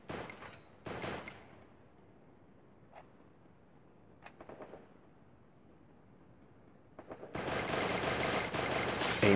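Gunfire in the video game Free Fire: short bursts of rapid shots with quiet gaps between them, ending in a loud sustained volley.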